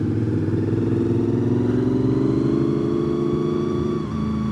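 Loud, steady engine rumble of motorcycles rolling past, revving slightly and holding a continuous drone throughout, close by.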